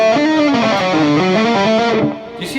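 Distorted electric guitar plays a fast tapped lead lick using only one finger, a continuous stream of quick legato notes that stays loud and close for about two seconds, then cuts off into a brief fading tail.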